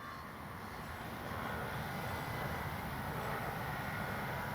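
A Dynam BF-109 radio-controlled warbird model flies overhead with retracts and landing flaps deployed, its electric motor giving a steady, moderately distant droning hum that swells slightly and holds constant.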